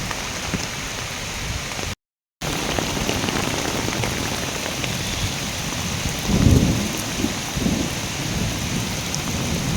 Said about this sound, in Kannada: ಹೆಂಗೆ ಬಿದ್ದೈತೆ ಅನ್ನೋದು ನೋಡ್ರಿ ಮಳೆ